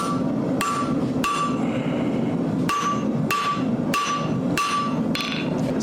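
Sharp metallic hammer blows forging a steel blacksmith knife, half-on half-off the edge, ring out one after another at an uneven pace, loud and close, with a low hum running underneath.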